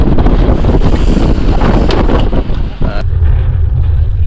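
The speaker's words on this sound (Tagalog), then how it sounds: "Grabe lakas ng hangin." Strong wind gusts buffet the microphone aboard a small fishing boat at sea, a loud continuous roar with rushing water that drops off sharply near the end.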